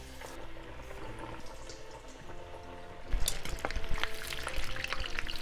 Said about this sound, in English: Then we're going to fry the rest as well